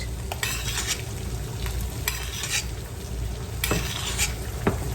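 An egg fries in a pan while being basted, giving a loud, continuous close sizzle with intermittent spattering bursts and a few light clinks of utensil against pan.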